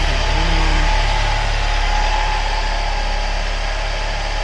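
Ford Fiesta ST150 with its 2-litre Duratec engine idling: a loud, steady low rumble with a smooth even drone, heard close up and without interruption.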